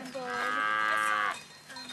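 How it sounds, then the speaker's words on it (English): A single cow lets out a long, loud moo close by, lasting about a second before trailing off. "You've got some good cows."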